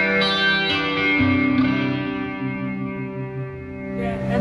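An electric guitar through a NUX Mighty Space amp's jazz chorus amp model with delay and spring reverb plays sustained notes and a chord, shimmering with chorus and trailing off into echoing reverb.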